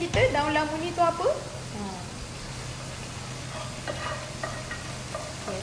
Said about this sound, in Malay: Ya, kita goreng dia hingga dia garing